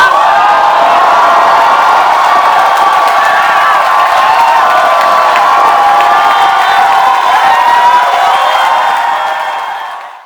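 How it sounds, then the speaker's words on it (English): A large crowd cheers, whoops and shouts for member committee president candidates at a youth organisation gathering, a loud continuous roar with applause mixed in that holds steady for ten seconds before fading at the end. "give a very, very loud round of applause for your member committee president candidates"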